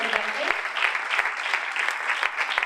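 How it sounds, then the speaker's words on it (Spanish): Audience applause for a women's basketball team at a club event, a steady dense clatter of many hands clapping close by for about three seconds with no talk over it. "yo pido un aplauso para ellas, muy fuerte"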